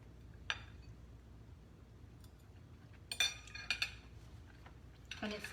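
A fork pulls tender air-fried, pressure-cooked rib meat off the bone on a plate, giving a few quiet, scattered clinks and scrapes against the dish with no talking.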